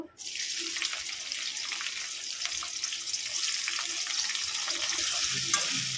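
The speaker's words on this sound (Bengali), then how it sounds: "পেঁয়াজটা আমি লাল লাল করে ভেজে নেব" Onions sizzle and hiss in hot oil for a beef and bottle gourd curry, a steady, fairly faint crackle that continues throughout with no talking.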